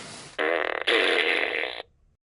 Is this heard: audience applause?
no